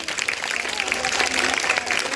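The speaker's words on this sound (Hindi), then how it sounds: "तो एक बार तालियों से इतना उत्साहवर्धन करें" Village audience clapping for a children's street play about communicable disease awareness, a dense steady patter of many hands filling the space throughout, fairly loud with faint crowd murmur.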